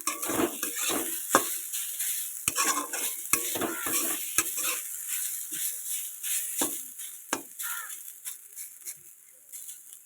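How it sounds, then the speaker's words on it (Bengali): Potatoes sizzle in hot oil while a spatula stirs and scrapes the pan in sharp, irregular knocks over a crackling, fading fry. "দেখেছ দেখছো আমার আলুগুলো অলরেডি ভাজা হয়ে গেছে"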